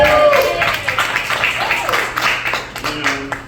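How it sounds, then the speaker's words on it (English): Applause and clapping at a comedy night, a brief burst of crowd noise mixed with chatter, loud and close, with an excited voice and some whoops over the clapping. "Y'all give her a big round of applause for putting this whole thing together."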